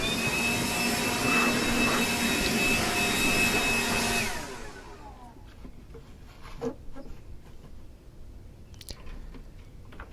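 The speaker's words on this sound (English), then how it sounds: "Blow all that grass and dirt out of there before I put the covers back on." Air blowing grass and dirt out of a lawn mower deck, a loud continuous hissing roar for about four seconds that then cuts off, leaving faint handling noises.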